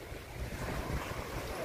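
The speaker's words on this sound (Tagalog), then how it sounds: "Dito ako sa may dagat." Sea waves wash against the shore in Cebu, a steady broad roar of surf mixed with gusty wind buffeting the microphone, with no one speaking.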